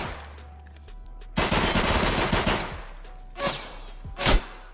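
Pistol shots in the Escape from Tarkov video game: a loud burst of rapid gunfire followed by two more separate sharp shots, with no talking.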